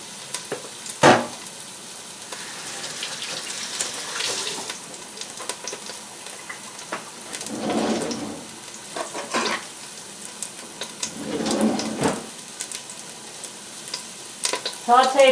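Chopped garlic and julienned fresh ginger sauté over high heat, a steady sizzle broken by scraping stirs and louder bursts as the pan is worked.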